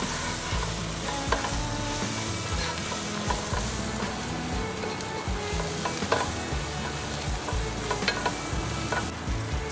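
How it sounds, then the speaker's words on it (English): Cumin and other spices are stirred in a hot cooking pan, giving a continuous loud sizzle with scraping stirring strokes throughout. "And then stir all of that together."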